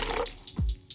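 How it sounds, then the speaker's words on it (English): Water poured into green vegetable juice made from celery, kale, spinach, ginger and cucumber, a short close splash lasting well under a second, with no talk. "I just add a drop of water."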